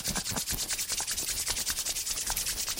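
A voice imitates the rough rasp of sandpaper rubbing, a quick rhythmic series of breathy scraping strokes repeated evenly and close, with no other talk.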